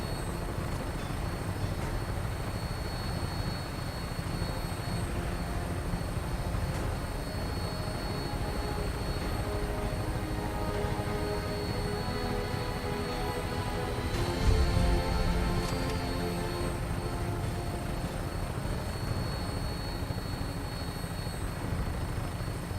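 Steady whirring drone of a Fallout 4 vertibird on final approach to the Prydwen airship, a continuous rotor and engine hum with a slight swell midway and no voices.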